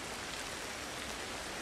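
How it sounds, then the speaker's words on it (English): Steady rain falls across an outdoor area in the prehistoric survival game Ancestors, a soft, even hiss of broadband noise with no breaks or distinct drops, heard alone without any talk. "Unfortunately, it's raining."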